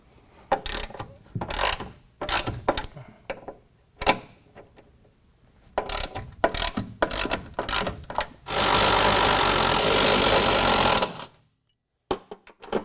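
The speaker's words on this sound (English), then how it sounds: "you're going to use a T40 Torx bit, and if nothing else, break it loose with a hand tool" A hand ratchet with a T40 Torx bit works on the tie-down cleat bolts of a 2017 Ford F-250 bed, giving bursts of close, rapid clicking, then a sustained loud whirring stretch and a few final clicks.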